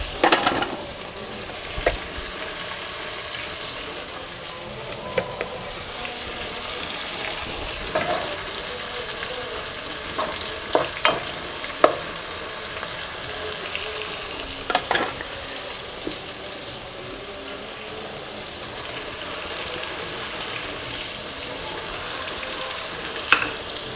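Oil heats and sizzles in a hot pan for a Persian spinach stew, a steady close crackle with scattered sharp pops and occasional stirring clicks, no voices.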